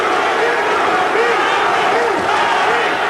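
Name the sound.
boxing crowd chanting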